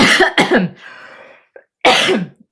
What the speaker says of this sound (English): I really had to cough